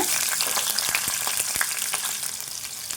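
Mustard seeds, cumin and onion frying in hot oil, a loud, bright continuous sizzle with quick popping crackles and a few soft stirring taps, no speech.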